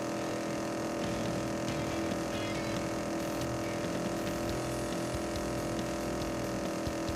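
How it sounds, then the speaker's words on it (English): Car engine noise in the racing video game FlutterBug, a constant droning buzz with steady harmonic tones, loud and unbroken, with no voices. "This engine noise is much more obnoxious too."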